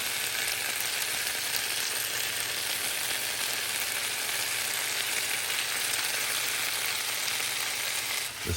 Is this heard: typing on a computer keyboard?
no